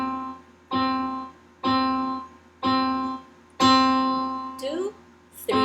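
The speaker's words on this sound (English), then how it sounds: "if you play it on the piano," A piano sounds a single tone in a slow, steady beat, each note ringing and decaying before the next, with a voice speaking over the final notes.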